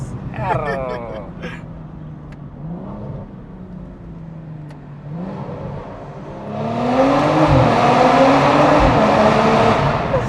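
BMW M240i (G42) engine and performance exhaust while driving, a low drone under passenger talk that swells into a loud, sustained accelerating roar near the end.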